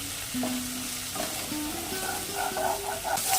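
Prawns fry in a pan with a steady sizzle, broken by the scrape and clatter of stirring and a few sharper crackles that grow louder toward the end.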